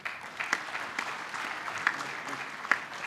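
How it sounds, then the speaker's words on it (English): Modest applause from a conference audience, fairly quiet and thin, with a few individual claps standing out sharply over a soft continuous patter for about three seconds. "But I think we should clap for that."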